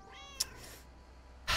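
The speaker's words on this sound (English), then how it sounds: "Should I take your cat?" A cat meows in a cozy adventure video game, first with a short falling mew, then a brief click and later a louder wider burst, all heard alone at a quiet level.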